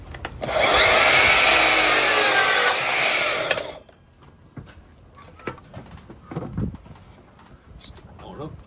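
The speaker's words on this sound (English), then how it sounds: "I'm just going to cut a bit of batten and check them." A handsaw cuts through a length of wooden batten while oak roof rafters are being fitted, giving about three seconds of loud, steady rasping strokes up close, then quieter knocks and handling noises.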